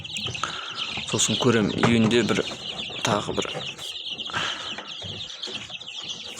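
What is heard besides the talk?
newly hatched chicks chirping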